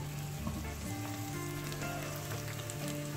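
Onion and ginger garlic paste fry together in a pan for a dhaba-style paneer masala, giving a steady, close crackling sizzle that stays even throughout with no talking.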